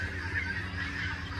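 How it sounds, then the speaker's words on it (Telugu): Large Toulouse geese honk in a steady, nasal, continuous chorus at close range, the calls blending into one sustained drone with no pauses and no talking. "ఇక్కడైతే మేము గీస్ బాతులు అని పిలుస్తాం వీటిని"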